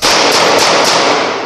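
Gunfire during a police confrontation with a man armed with a 12-gauge shotgun in a neighborhood in La Vega: a loud, dense crackle of rapid shots, with pulses about every third of a second, close and harsh throughout.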